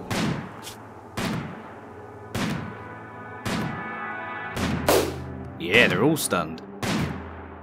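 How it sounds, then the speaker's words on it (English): Gunfire in the video game RimWorld Alpha 12 during a fight with scythers and centipedes: seven or so sharp, punchy shots spaced roughly a second apart, with a clustered burst near the end, while someone talks over them. "Shoot him while he's stunned."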